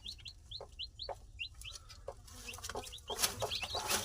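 A hen clucking near her chicks on a poultry farm, with short, rapid high peeps from the chicks in quick bursts over low clucks, close and quiet.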